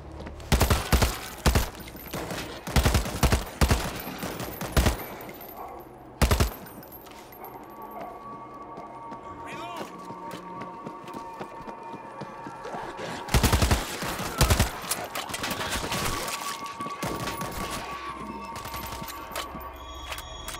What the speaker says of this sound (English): Shots came from the highway.